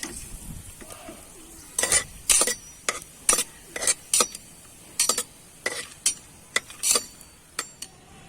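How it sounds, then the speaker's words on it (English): Whole cloves, cinnamon and cardamom frying in hot oil in a pan for egg biryani, with a spoon stirring in a steady series of loud scraping strokes over a low, continuous sizzle, close up. "So let's put the cloves, cinnamon and cardamom. Let's give it a nice fry so that the flavor comes in the oil."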